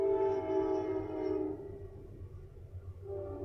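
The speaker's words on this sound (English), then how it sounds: "Yep, just a normal Amtrak train." An Amtrak passenger train passes nearby, its droning, horn-like tones loud at first and then fading into a low rumble of rolling wheels, heard alone at modest level.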